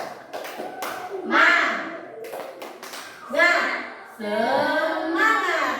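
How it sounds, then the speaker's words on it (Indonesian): A class of children in an Indonesian classroom claps out a rhythmic spirit cheer, sharp hand-clap bursts in short patterned groups alternating with a teacher's and children's voices chanting along. "Ibu contohkan dulu, tepuk semangat."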